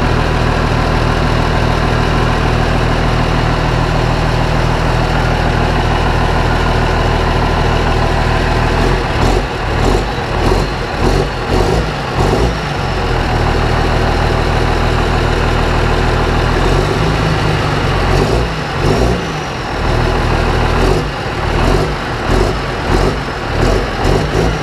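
An MTZ tractor's D-260 diesel engine idles steadily after a repair, a loud, even, low rumble running throughout with slight variations in its note partway through.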